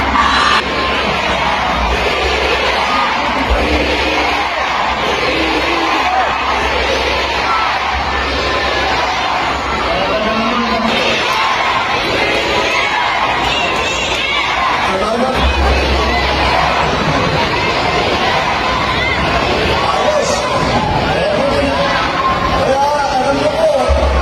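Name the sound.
rally crowd in Lucena shouting BBM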